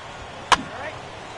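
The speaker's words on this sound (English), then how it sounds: "Now a ball hit foul off to the right and up into the crowd." A single sharp crack of a bat striking a foul ball in MLB The Show, ringing briefly and then fading into a soft, murmuring stadium crowd.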